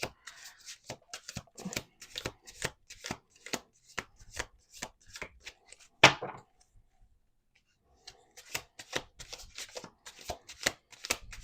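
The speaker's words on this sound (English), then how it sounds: "we're going to do 2 more shuffles" A deck of playing cards is shuffled on a table at close range: repeated crisp riffling bursts, then a sharp snap and a short pause before more riffles follow.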